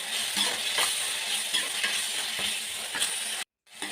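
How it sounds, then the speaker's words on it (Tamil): Onions and tomatoes sauté in a pan for paruppu urundai kuzhambu, a steady close sizzle with soft stirring scrapes that runs throughout, then cuts out briefly near the end before resuming. "தக்காளி சேர்த்து தக்காளியும் நல்லா வதக்கி விட்டுக்கலாம்"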